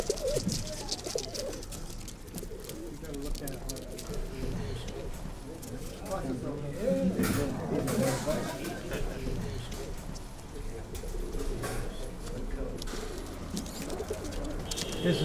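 Domestic show pigeons cooing at a pigeon show, soft repeated coos and murmuring from many birds that run steadily under nearby talking throughout.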